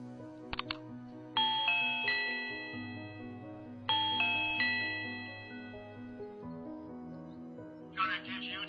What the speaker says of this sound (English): This chime has options to change the volume as well as the chime sound.